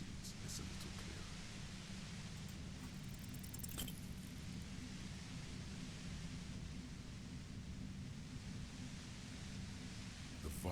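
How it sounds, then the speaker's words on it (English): A compressor in the video game Disco Elysium gives off loud, constant white noise, a dense roar with a heavy low rumble that stays unbroken for over ten seconds. "The violent white noise becomes even more overwhelming closer to the compressor."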